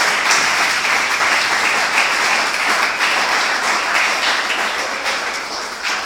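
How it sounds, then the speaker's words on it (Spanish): A church congregation applauding the Lord during a sermon: loud, dense clapping from many hands, sustained and even for several seconds before easing slightly toward the end. "Den un aplauso al Señor."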